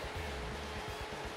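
A Sapphire Radeon R9 380X Nitro OC 4GB graphics card fan spins at full 100% speed, giving a steady, even whoosh of airflow with a low hum underneath.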